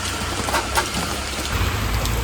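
Heavy rain pours down steadily near a roadside by a forest, a dense continuous hiss that stays loud for the whole moment.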